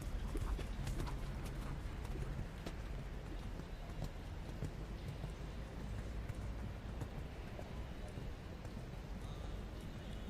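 A horse canters in a dressage arena at a junior eventing championship, its muffled hoofbeats soft and distant under steady background noise.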